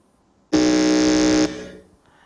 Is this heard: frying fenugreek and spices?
no